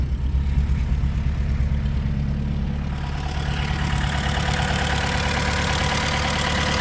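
A 1951 Willys pickup engine idling on fuel poured into the fuel bowl with no fuel line attached, a steady low rumbling drone with knocking vibration that grows fuller and brighter partway through, loud and close.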